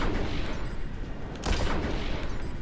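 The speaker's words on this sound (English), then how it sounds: "I like the lo-fi explosions are pretty cool." Dense, crackling bursts of lo-fi synthetic explosions and gunfire-like booms from an aerial dogfight video game, Wing of Darkness, rumble continuously, with a sharper blast in the middle.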